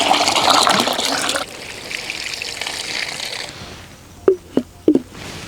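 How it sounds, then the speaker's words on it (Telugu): Basmati rice being washed in water: a rushing, trickling wash for about a second and a half, then a softer ongoing trickle, followed by three short splashes near the end, with no speech. "మూడు గ్లాసుల బాసుమతి బియ్యాన్ని ముందుగా రెండు మూడు సార్లు బాగా కడిగి నానబెట్టుకుంటానండి"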